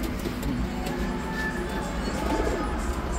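Racing pigeons in a loft coo softly and repeatedly, their low throaty calls overlapping against a steady background hum.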